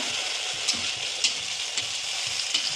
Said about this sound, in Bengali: দেখো আমি আস্তে আস্তে ভাজি এগুলো